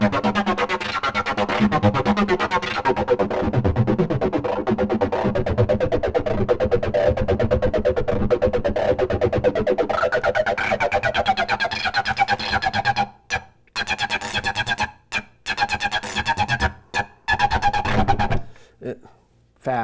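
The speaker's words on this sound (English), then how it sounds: "Change filters, put on some filter drive, a little distortion." A Sequential Pro 3 synthesizer plays a thick, driven tone with filter drive and light distortion, sustained and loud, then breaking into choppy gated stabs toward the end, with a voice talking over parts of it.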